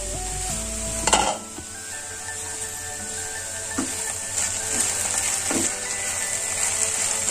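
Okra frying on low flame in a covered pan hisses softly and steadily, with a clatter as the lid or spoon moves and a few light stirring scrapes.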